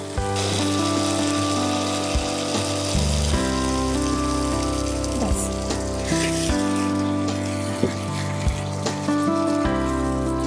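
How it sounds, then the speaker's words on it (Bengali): Shrimp and pumpkin greens chorchori with red chilli in a frying pan, water added: a steady, loud broadband sizzle and hiss runs throughout alongside clinking of utensils, with no talk. "এবারে জল দিচ্ছি।"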